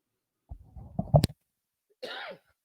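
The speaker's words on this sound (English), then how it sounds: "sorry, I had to cough there for just a moment" A person coughs twice in quick succession, then gives a short rasping throat-clear a moment later, close and clear against silence.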